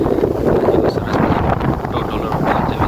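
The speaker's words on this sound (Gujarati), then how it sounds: "મસ્ત મજાનું વાતાવરણ છે, અને પવન એ જોરદાર છે." Strong wind blusters into the microphone at Dholarva dam, a loud, continuous roaring rumble with gusty surges that fills the whole stretch and buries any other sound.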